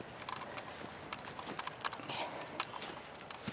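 Goat hooves tap and clatter irregularly on hard pasture ground, light and fairly close, with faint rustling between steps.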